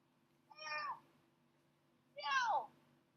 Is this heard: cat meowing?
yes